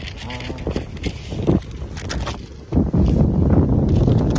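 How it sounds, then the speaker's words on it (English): Gusty wind buffets the microphone, a steady low rumble with sharper thumps that grows heavier toward the end. "it's a little bit windy."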